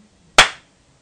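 A single sharp hand clap, close and loud, used to trigger a sound-activated circuit, ringing off briefly into near silence.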